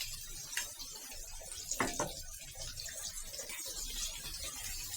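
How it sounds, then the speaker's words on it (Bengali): A small splash of water goes into a pan of taro stolons being sautéed, heard as a soft pouring wash with a couple of brief clinks over steady low kitchen noise. "একটু সামান্য পানি দিব লতিটা কষানোর জন্য।"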